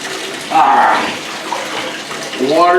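Water running into a bathtub while a Siberian husky is being bathed, a steady hissing splash with a person's voice talking over it in bursts.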